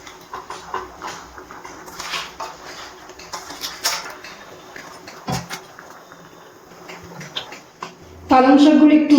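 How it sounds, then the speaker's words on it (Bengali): Spinach is stirred in a pot of boiling water, with scattered metallic clinks and knocks from the utensil against the pot under a background bubble, and a person speaks throughout. "পালং শাকগুলো একটু নাড়াচাড়া করে নিচ্ছি জলের মধ্যে।"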